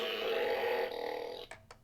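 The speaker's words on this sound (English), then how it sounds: "This is a literal button shaped like a cloud of fart." A cloud-shaped novelty fart button plays a loud, close, drawn-out buzzing fart sound that ends in two short sputters.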